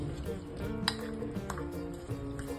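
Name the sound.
spoon mixing grated cucumber with curd in a bowl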